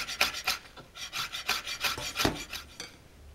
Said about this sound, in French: J'émince la vanille très fine pour avoir un maximum d'infusion, un maximum de parfum.